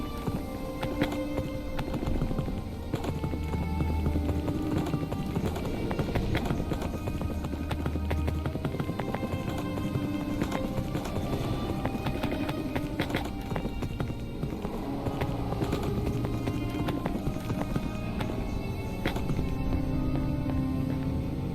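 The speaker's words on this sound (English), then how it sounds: "Alright, let's take one of these horses." Hooves clip-clop in a steady, rapid rhythm as a horse gallops in the Minecraft video game, moderately quiet beneath a layer of game music and ambient sound.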